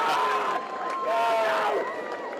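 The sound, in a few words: crowd cheering at an Australian football match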